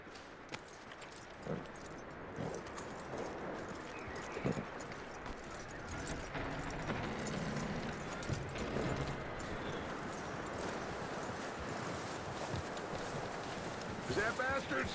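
Horse hooves clip-clopping in Red Dead Redemption 2, soft, irregular hoofbeats under frequent talking and background game ambience across the clip.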